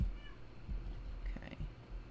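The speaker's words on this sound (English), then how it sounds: "do you hear this cat?" A cat meows faintly a couple of times in a quiet outdoor setting, short high cries rising above low background noise.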